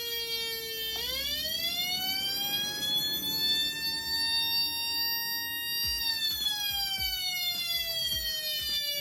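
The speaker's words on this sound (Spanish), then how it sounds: "Y ese fue el circuito de la sirena de policía" An electronic police siren circuit gives a steady synthetic wail whose pitch climbs, holds high, then slides gradually back down once the push button is released, loud and alone with faint clicks near the end.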